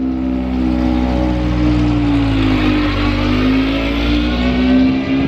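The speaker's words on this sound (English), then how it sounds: "This guy's taking the car out to warm it up" A Formula 3 race car engine warms up nearby, holding a loud, steady rev with a slowly rising and falling pitch throughout, no voices over it.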